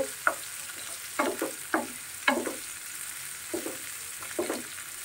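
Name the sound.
onions frying in a pan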